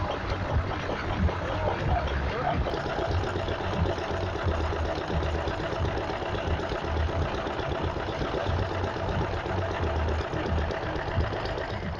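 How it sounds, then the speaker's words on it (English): A big Bamford stationary steam engine at an outdoor steam rally runs steadily nearby, giving a continuous rhythmic ticking, chuffing beat with a sawing quality, with no talk over it. "Nice big Bamford's engine there, ticking away nicely. Making a lovely sawing sound, chuffy, puffy sound"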